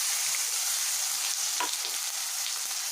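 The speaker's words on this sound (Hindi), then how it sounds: "अब मैं मसाला को फ्राई करूँगी" A masala paste of onion, garlic, ginger, chilli and tomato, with coriander and turmeric powder, fries in oil for a Bihari vegetable curry, making a loud, steady, close sizzle with faint stirring scrapes.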